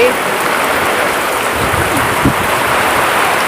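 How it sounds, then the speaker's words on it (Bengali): Heavy rain pours down in a village while water streams down a staircase, a dense, even roar of falling water close by with a few faint splashes and no talk. "আর কি বৃষ্টি পড়ছে দেখুন, কি হারে বৃষ্টি পড়ছে,"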